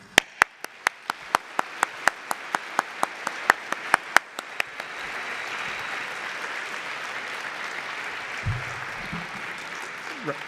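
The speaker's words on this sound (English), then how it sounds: "I'd like to give him a huge round of applause, as well as everyone from UC3M" Conference audience in an auditorium applauds the event organizer from UC3M during a keynote, opening with a few sharp distinct claps that swell into steady, sustained applause from the whole room.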